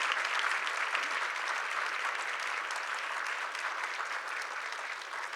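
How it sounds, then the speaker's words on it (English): An audience applauds a panel as the members return to their tables, with steady sustained clapping filling the room, moderately loud and continuous throughout. "I'd love for you to give them a round of applause as they return to their tables"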